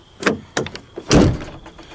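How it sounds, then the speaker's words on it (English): A stubborn door at a farm is shoved and rattled, with a few sharp knocks and then a heavy scraping slide as it is forced open, close and loud. "Oh, come on, door."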